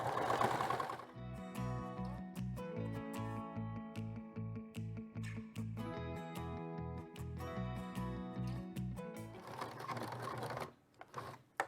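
A sewing machine stitches a long straight seam along a length of fabric, its needle thumping in a steady fast rhythm up close, with brief pauses and a softer whir at the start and end.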